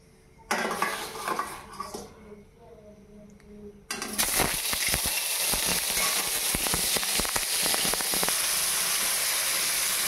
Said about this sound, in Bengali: দেখুন, মাছগুলো নুন হলুদ দিয়ে ভাজি করে নিচ্ছি।